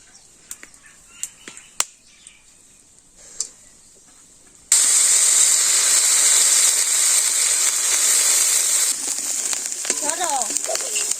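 Spices being cooked down in a pan before fish and potatoes go in: light scattered clicks and taps, then a sudden loud, steady sizzle that drops back a little near the end, with voices talking.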